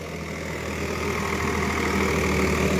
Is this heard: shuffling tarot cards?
no